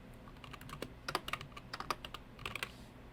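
Irregular bursts of keystrokes on a computer keyboard, close and fairly quiet, with short pauses between clusters of clicks.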